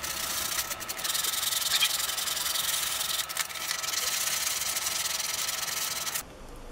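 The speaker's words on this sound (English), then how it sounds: "Then started the final shaping with 100 grit." Wood is sanded by hand with 100 grit sandpaper while shaping a small intarsia piece, giving a continuous close scratchy rubbing with short pauses between strokes before it stops near the end.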